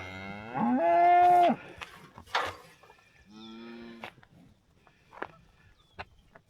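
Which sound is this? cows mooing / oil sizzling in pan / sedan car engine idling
cows mooing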